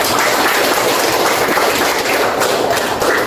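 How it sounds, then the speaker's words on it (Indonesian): Students clapping in a classroom, a dense continuous burst of many hands applauding together, loud and steady throughout. "tepuk tangan dulu buat itu"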